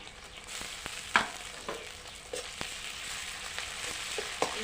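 Goat head curry frying in a pan while ginger-garlic paste and spice powder are stirred in, with a steady soft sizzle and scattered scraping clicks of the spoon. The sound is close and moderate, and no one speaks.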